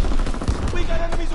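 Rapid bursts of gunfire and machine-gun fire from a World War II-style war video game, with combat shouting and explosions in a short, dense mix.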